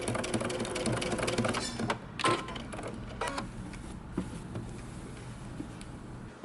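A sewing machine back stitches the end of a seam on a button-up shirt, a close mechanical whirring rattle that runs for about two seconds, then gives way to quieter handling clicks.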